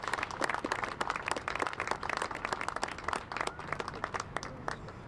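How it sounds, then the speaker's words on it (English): Outdoor crowd applauding at the opening ceremony of a new public park in San Francisco, a loose patter of many hands clapping steadily for several seconds at moderate distance. "Let's have a big round of applause and thanks to all of them."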